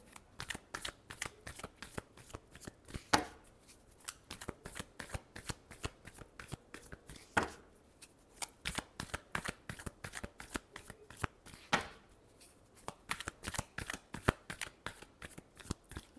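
Tarot cards shuffled by hand in a steady run of quick riffling flicks, close and soft, with a few brief pauses between bursts across the whole stretch.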